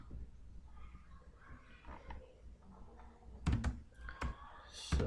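Soft keystrokes on a computer keyboard as a Linux command is typed, scattered quiet taps building to a few sharper clicks near the end, close and faint with no talking.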